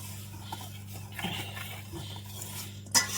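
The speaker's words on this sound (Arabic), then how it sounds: "وهنقلب بقى الخليط كله كده عشان يندمج مع بعض" A spoon stirring corn cake batter with orange in a bowl, soft scraping strokes over a low hum, ending with a sharp clink against the bowl.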